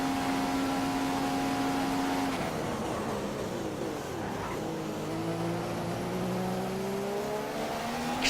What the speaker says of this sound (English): Just accelerate, you stupid car. This McLaren Honda is painful.